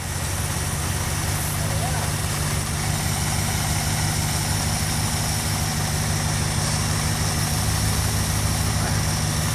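A 1980 Dodge D150 pickup truck's engine idles steadily with a low, even rumble throughout, while someone talks over it nearby.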